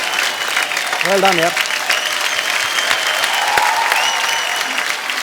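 Studio audience applause on The Kapil Sharma Show, a steady crowd clapping that runs through the whole stretch under a host's voice and a brief sung or hummed phrase.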